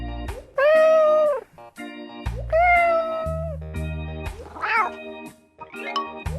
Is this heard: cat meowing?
yes